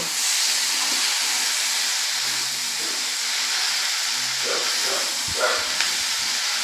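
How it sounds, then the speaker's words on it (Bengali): Potatoes and spices sizzle as they are sautéed in a pan for spicy suji, a loud, continuous hiss with a few stirring scrapes near the end. "এবার সব উপকরণগুলোকে আমি ভালো করে মশলা দিয়ে কষিয়ে নেব"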